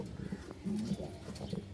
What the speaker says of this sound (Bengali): রাজশাহীর উড়াবাজি কবুতর মাশাআল্লাহ।